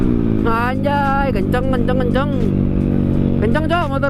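A Yamaha Aerox motorcycle accelerating on a night ride, its engine loud and close, with the pitch sweeping upward through several rising revs in a continuous drone.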